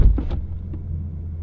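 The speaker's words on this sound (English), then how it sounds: "This is what it sounds like from the rear." A low, steady rumble of an idling Ford Mustang GT V8 through a Borla S-Type exhaust, heard up close from the rear with a couple of faint knocks near the start.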